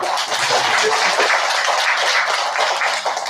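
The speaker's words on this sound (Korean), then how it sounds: "우리 다 같이 감사의 박수 한번 부탁드리겠습니다" Audience applause at a church community gathering, a dense, steady wash of clapping hands filling the whole stretch without any spoken voices over it.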